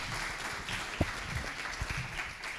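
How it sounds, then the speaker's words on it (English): Applause from a live audience for a young performer at a Girl Be Heard unplugged spoken-word event, a soft, steady wash of clapping lasting a few seconds with one sharper clap standing out. "Keep that applause going for Samara."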